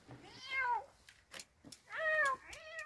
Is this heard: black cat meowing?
yes